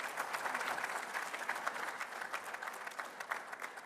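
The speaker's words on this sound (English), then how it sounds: "Another resounding round of applause." An audience at a Namibia-Botswana bi-national commission gathering gives a sustained round of applause, a dense even patter of many hands clapping with no break.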